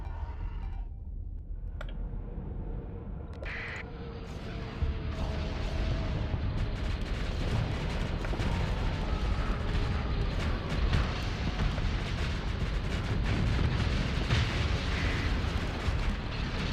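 Missile explosions in Starsector rumble as a dense, continuous roar of booms and crackling bursts, building in loudness after a quieter opening and staying heavy throughout.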